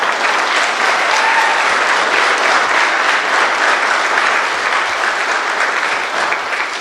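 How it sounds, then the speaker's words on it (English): Audience applauding two honored women at a pre-service class graduation ceremony, steady dense clapping filling the hall for several seconds without talk, tapering slightly at the end. "Miss Nichols and Miss Cole deserve a huge round of applause."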